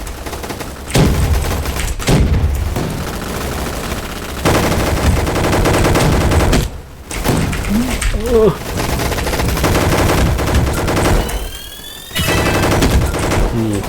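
Repeated bursts of rapid automatic gunfire from the Roblox game Gunfight Arena crackle loudly, broken by brief pauses and other game sound effects.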